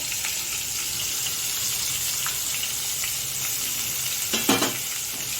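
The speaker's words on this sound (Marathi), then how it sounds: "तर हे कांदे आपल्याला व्यवस्थित याच्यामध्ये फ्राय करून घ्यायचे" Three chopped medium onions frying in a pan for a chicken dish, a loud continuous close sizzle with a few brief stirring scrapes near the end and no talk.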